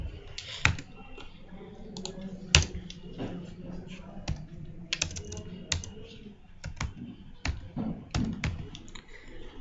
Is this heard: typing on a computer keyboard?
yes